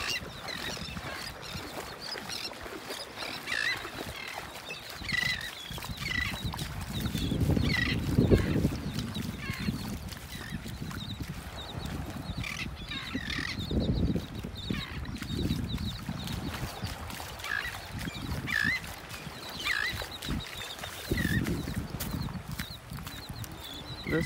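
Shorebirds calling out on a beach in North Naples, Florida, a busy chorus of repeated honking and squawking cries at middle distance over steady surf and wind.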